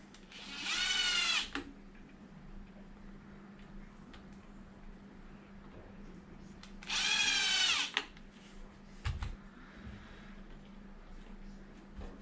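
A power drill whirs in two short bursts as it drives screws back into an Arrma Limitless RC car, with quiet gaps and light handling noise between them.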